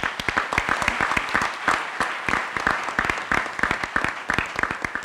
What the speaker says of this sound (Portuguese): eu quero uma salva de palmas para vocês que fazem essa parte solidária